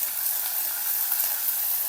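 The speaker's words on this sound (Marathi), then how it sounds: "फोडणी छान भाजायची बघा।" A tempering of mustard seeds, asafoetida, cumin, ginger, garlic paste, green chillies and curry leaves sizzles in oil for kadhi, a steady bright hiss that is close and continuous with no voices.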